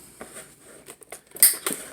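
Scissors snip through action figure packaging in a few soft, quiet cuts and crinkles, with one sharper plastic snap toward the end, close by and without talk.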